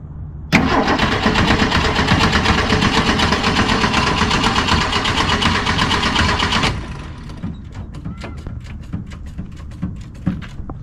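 A 1966 Ford Mustang, left standing for over 20 years, cranks loudly with a harsh, steady whirring grind for about six seconds, then stops, leaving quieter rhythmic clicks and knocks.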